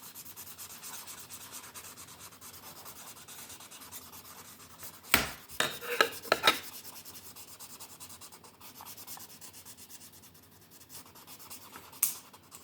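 A pen scratches and rubs steadily across paper while colouring in a drawing of seaweed, a soft continuous scribbling with a few sharper taps and knocks partway through.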